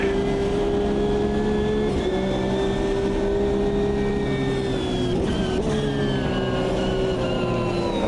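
Classic GT3 race car engine in Automobilista 2, a steady loud drone holding a sustained pitch with slight dips around gear changes, running continuously for eight seconds.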